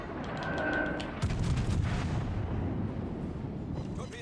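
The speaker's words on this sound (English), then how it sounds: "Fire on the target." Naval guns boom in the World of Warships Legends game, with a deep blast followed by rumbling low explosions and a steady roar of game sound.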